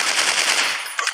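Rapid automatic gunfire in the Dino Hunting Zoo Animals dinosaur hunter android game, a short, dense burst of rattling shots followed by a couple of separate cracks.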